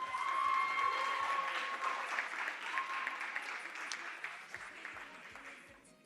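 An audience applauds the winners of a secondary-school mental math competition, with steady clapping that slowly tapers off, a few voices mixed in.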